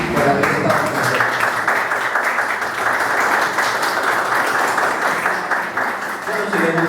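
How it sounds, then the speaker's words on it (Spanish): An audience applauds at a storytellers' book-fair session, a dense, continuous clapping that lasts the whole stretch, with voices faintly present at the start and end. "Ahora nosotros nos aplaudimos a ustedes por habernos aportado"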